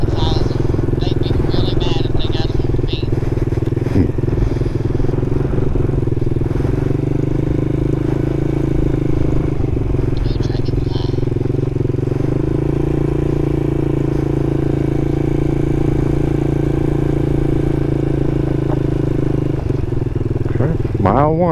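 A small Honda Monkey or Grom clone motorcycle rides steadily through a wildlife refuge, its engine droning continuously with slight shifts in pitch, close and loud, while a rider talks over it.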